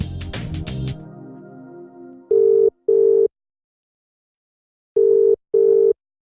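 A phone rings in two double bursts separated by a pause, loud and electronic, after a brief muffled clatter at the start.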